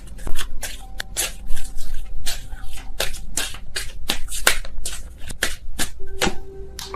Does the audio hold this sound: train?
no